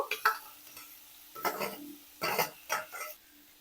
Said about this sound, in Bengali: এখন ওর মধ্যে কেটে রাখা চিচিঙ্গা দিয়ে দেব আলুগুলো দিয়ে দেব